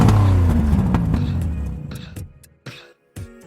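A car engine revs loudly and then fades out, followed by a few short, sharp sounds near the end.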